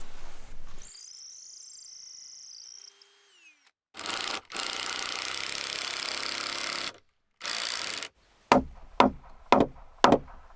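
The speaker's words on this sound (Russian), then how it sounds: "Это попадать сверлом через горбылину в ступеньку" An electric drill bores through a slab board into a wooden step, running in several long bursts separated by pauses and ending with a series of short sharp knocks, close and loud with no talk.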